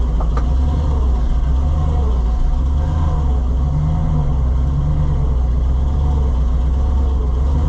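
Loaded truck engine running steadily during a soybean harvest, a continuous low rumble with a faint mid-range drone that holds at an even level throughout, close and fairly loud with no talking.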